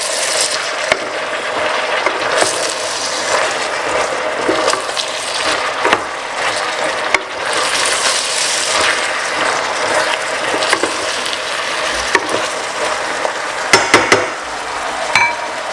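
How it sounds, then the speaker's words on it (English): Aubergine is cooked down and stirred in a pan, giving a steady sizzling hiss broken by scraping and clattering utensil strokes, with a few sharper knocks near the end. "we're going to add the aubergine inside of it, make it cook down with"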